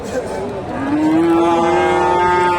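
A Friesian cross dairy cow lets out one long, loud, drawn-out moo at the Dakumara cattle market in Bogura, Bangladesh, with faint crowd murmur behind it.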